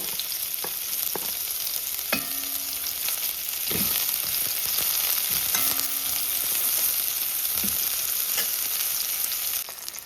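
Onion frying in a pan for baked beans and sausages, a steady close sizzle running throughout with intermittent scraping stirs and clinks of a utensil.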